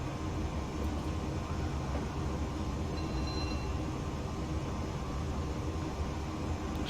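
A Class 370 APT-P train accelerating in Train Simulator Classic, heard as a steady, dense rumble of rolling wheels and traction noise that stays constant throughout with no voices.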